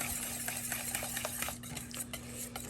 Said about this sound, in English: And then I'll mix that all up again.